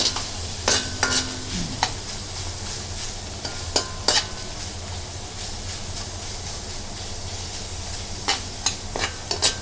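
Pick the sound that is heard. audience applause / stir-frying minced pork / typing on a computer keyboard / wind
stir-frying minced pork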